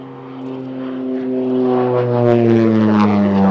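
An OV-10 Bronco twin-turboprop flies past at an airshow, a loud steady propeller drone with strong tonal harmonics that swells as the aircraft draws nearer, with no voices.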